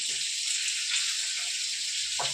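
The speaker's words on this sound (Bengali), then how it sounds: "ওই তেলেই বাদবাকি মাছগুলো আমি ভেজে নেব" Boal fish frying in oil, a steady bright sizzle holding evenly throughout, with a few faint knocks in the background.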